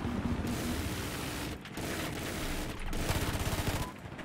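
Battlefield 4 gunfire on the Lost Island map during a scout helicopter match: loud, dense bursts of rapid automatic fire and booming blasts, broken by two brief pauses, with no talking.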